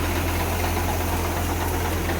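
A tractor engine running steadily at a rough, knocking idle, loud and close, a constant throbbing drone with no voices.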